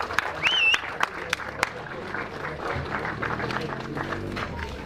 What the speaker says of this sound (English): one more applause for Group E